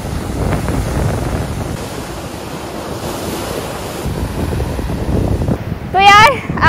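Strong ocean surf breaks on Trivandrum beach at evening, a loud continuous roar of waves pushed about by gusty wind across the microphone, and a short high-pitched call near the end.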